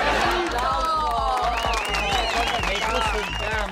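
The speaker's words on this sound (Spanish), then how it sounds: "¡Aplauso para Flavio!" Studio audience on an Argentine comedy show applauding and cheering loudly and steadily, with voices and music mixed into the dense clapping throughout.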